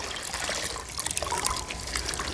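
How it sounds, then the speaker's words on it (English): Fabric soaked in salt water being wrung out by hand, water trickling and dribbling close by in short, uneven splashy spurts. "And then I'll just wring it out."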